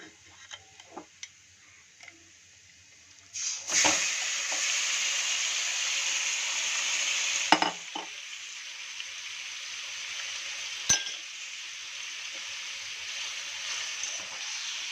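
Marinated chicken hits hot oil in a pan with garlic and ginger, a sudden steady sizzle that starts partway in, with a few knocks of utensils and a quieter hiss afterward.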